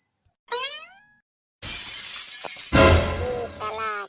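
A ceramic tea cup breaks with a loud, sharp shatter and a rattling scatter of shards that lasts a couple of seconds, with brief voice-like tonal sounds before and after.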